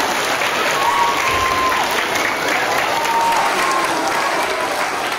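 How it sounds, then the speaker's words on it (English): Steady applause fills the room for guests visiting a Catholic school, a continuous crowd of clapping hands held at even loudness throughout without any speech. "Let's give them all a round of applause."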